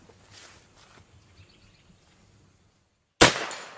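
A single-shot big bore air rifle firing a round downrange outdoors: one sharp, loud crack after a quiet stretch of faint ambient noise, with a brief decaying tail.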